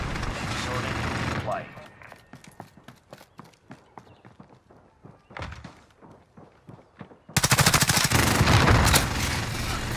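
Video game gunfire and rockets against a Juggernaut: a rapid run of sharp shots, then a pause and a sustained loud blast of fire near the end, dense and close.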